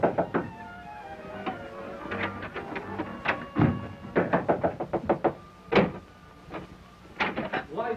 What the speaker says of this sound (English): There's someone at the door.